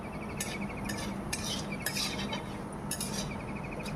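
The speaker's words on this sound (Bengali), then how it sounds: "এই তেলের মধ্যে এবার আমি তেজপাতা, গোটা জিরে এবং গোটা গরম মশলা দিয়ে দেব।" Bay leaf, whole cumin and whole garam masala hit hot oil in a pan, giving a steady soft sizzle with light metallic clinks of a spoon stirring at intervals, quiet and close, no voices.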